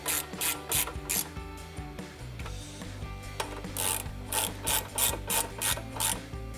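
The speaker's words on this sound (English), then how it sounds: "4mm Allen on a socket and an extension, my ratchet." A hand ratchet clicks in short bursts as it tightens bolts with a 4mm Allen socket on an extension, compressing lock washers on a Flowmaster Delta Force cold air intake on a 2018 Jeep Wrangler JL; close, crisp and rhythmic, no talking.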